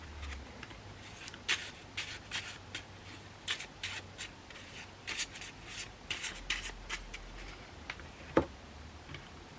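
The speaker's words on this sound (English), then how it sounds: "we have to shuffle the cards now." Playing cards are shuffled repeatedly up close, a series of quick riffling and tapping bursts with short pauses between them.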